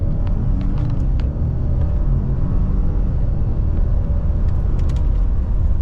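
A 2024 Chevrolet Silverado RST 6.2 and a Ford F-150 3.5 EcoBoost accelerate in a 0-60 run, giving a loud, steady, deep engine rumble heard from inside the cab, with a few faint clicks.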